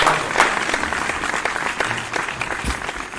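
Loud applause from the audience at a Parakram Diwas and Republic Day poetry gathering welcomes a poet to the stage, with steady, dense clapping and occasional sharper claps standing out throughout.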